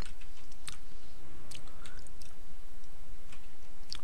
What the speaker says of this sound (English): So if you hear any crunching, that's the toast, not the tea.